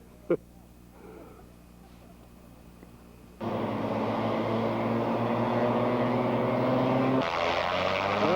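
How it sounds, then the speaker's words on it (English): A propeller airplane engine on a mountain in Alaska powers up for takeoff, a low droning hum that jumps abruptly to a loud steady roar partway through, with a voice heard briefly before. "They're getting ready for takeoff."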